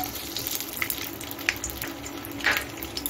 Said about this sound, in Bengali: আমি 1টা নন স্টিক কড়াইতে সাদা তেল দিয়ে গরম করে নিয়েছি। এখন আমি বাদামটা দিয়ে দিচ্ছি।